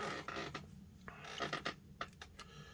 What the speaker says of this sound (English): I apologize about my creaky chair.